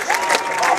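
A beach crowd at a pro pickleball doubles final applauds and cheers after a volley, a brief burst of loud, close clapping with voices mixed in.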